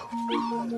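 A single dog gives a short, tonal whine or yelp, fairly close and alone, lasting under a second.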